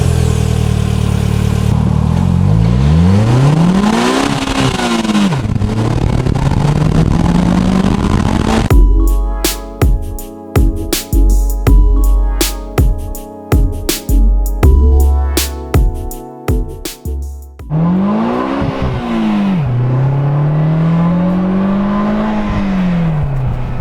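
A 2020 Polaris Slingshot engine drones and rises through revving gears, then a stretch of sharp, clattering roars as it accelerates hard, before settling back into a loud, steady cruising hum with pitch sweeps.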